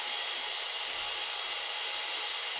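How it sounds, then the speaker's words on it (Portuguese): A household hair dryer switches on by itself after a power outage, giving a steady, loud, continuous broadband whoosh of blowing air that runs unbroken throughout, with no voices. "esse barulho foi do meu secador, porque eu tava sem luz aqui e o secador simplesmente ligou"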